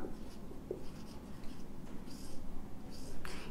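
Pen writing an amount by hand on paper for an accounting ledger exercise, a faint scratchy scribble running continuously, close and quiet, with brief rustles and no talking.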